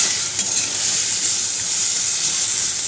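Potatoes and pumpkin fry in a pan with ginger-cumin paste, dried and green chilli, tomato and turmeric, giving a steady close sizzle with stirring scrapes throughout, no talking.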